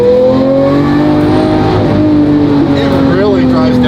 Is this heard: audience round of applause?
no